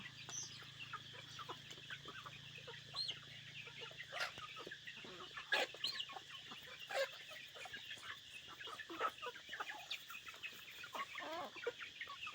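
Chickens cluck continuously in a farmyard where ducks are also kept, with many overlapping calls at moderate distance and no talking.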